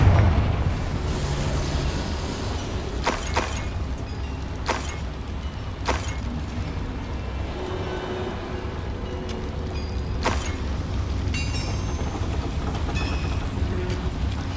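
In Hogwarts Legacy, a Confringo spell strikes a boiler in a dark dungeon, with several sharp blasts and bursts over a dense rumbling bed of game ambience.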